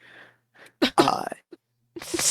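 A loud, close sneeze with a quick inhale beforehand, followed by a short gasp and some breathy vocal sounds.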